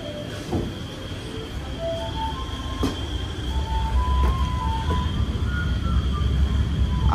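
Moscow suburban local train running outside the city: a continuous rumble of the wagon with rising wheel noise, faint clicks of the rails and occasional high squeals, heard from inside the carriage.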